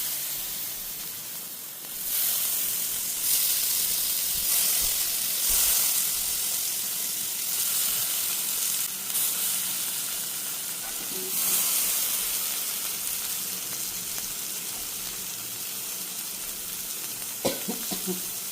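Fish pieces fry in a hot pan with a steady, moderate hissing sizzle that swells at moments as pieces are turned, with a few soft clinks near the end and faint talk in the background.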